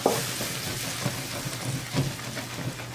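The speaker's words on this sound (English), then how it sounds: "2 cups beef stock goes into the mix right now." Beef stock poured into a hot pan of flour sizzles and bubbles in a short, close burst, with soft stirring clatter and no voices.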